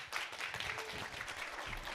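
An audience at a live Q&A event for a game's early access launch breaks into steady applause, a dense wash of clapping from a crowd that holds for a couple of seconds.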